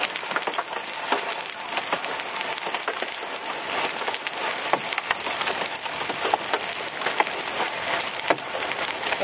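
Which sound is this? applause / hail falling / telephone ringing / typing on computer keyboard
hail falling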